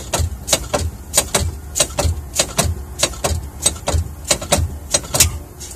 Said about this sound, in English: I'm gonna keep pumping until my parking brake pops out